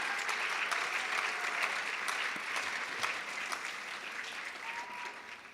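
A large audience at a Miss Provo 2018 pageant gives the contestants steady, sustained applause, a dense wash of clapping that continues evenly from start to finish in a big hall.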